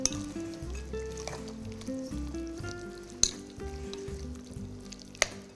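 A pan of grilled salad tajine being stirred over the heat, with steady sizzling and frying throughout and a couple of sharp utensil clinks against the pan.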